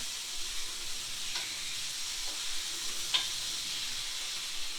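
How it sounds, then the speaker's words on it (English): Meat sizzles and fries steadily in a hot pan during a home breakfast cook, a continuous fine crackling hiss with a few faint clicks of turning, no talk. "Let me turn this meat while I'm over here. It does not take this meat long to burn on you."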